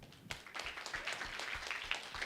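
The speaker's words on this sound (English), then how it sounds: "Round of applause." Audience applause at a community gathering, a steady round of clapping from many hands at moderate distance, sustained for a couple of seconds with no voices over it.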